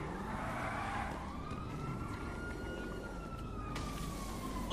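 Police car sirens in the GTA V video game, a wailing tone sweeping up and down over road and car noise, fairly loud throughout with no talk.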